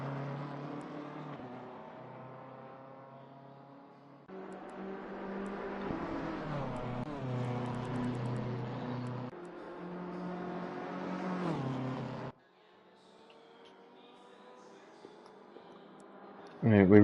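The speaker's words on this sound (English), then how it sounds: "We really do have a lot of cars very close together on this outlap." Race cars on an outlap at Watkins Glen in Assetto Corsa Competizione on PS5, with engines revving and shifting gears up and down through several pulls. A brief quieter gap comes near the end before a sharp burst of sound.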